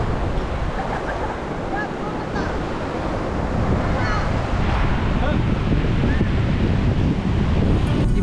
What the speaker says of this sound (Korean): 놀긴 해가 딱 좋네. 그 아까처럼 너무 세진 않고 파도가.